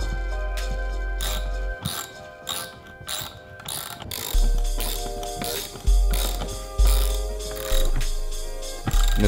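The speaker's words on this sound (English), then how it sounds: "Now time to screw it to the wall." Rapid mechanical clicking of a ratchet driving lag screws into wall studs, in bursts with pauses, punctuated by low thumps and creaks as each turn tightens.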